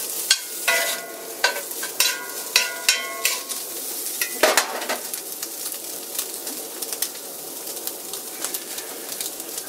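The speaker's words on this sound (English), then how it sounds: "Heating up this pork." Pork heats in a cast iron pan for a Cuban sandwich, giving a steady, moderate sizzle and frying hiss, with several sharp scraping stirs early on and birds cooing and chirping in the background.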